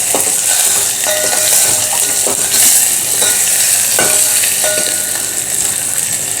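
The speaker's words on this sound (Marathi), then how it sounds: "यामध्ये मी घालते 1 बारीक चिरलेली हिरवी मिरची, हे थोडंसं आपण परतून घेऊया" Finely chopped green chilli sautés in a hot pan while being stirred, giving a loud, continuous sizzle and hiss with recurring scraping strokes of the spoon at a steady rhythm.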